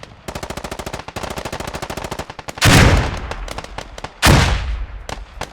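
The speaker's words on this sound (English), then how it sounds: "insane amount of frag grenades going off" Frag grenades exploding in the tactical shooter Squad: two loud, booming blasts cut through a steady rattle of fast automatic gunfire, followed by scattered single shots, all close and with no talk.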